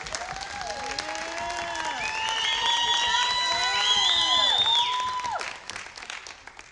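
Audience applause fills an honor society induction ceremony for new National Junior Honor Society members, a steady crowd of clapping mixed with cheers and whoops that swells, holds and then fades near the end.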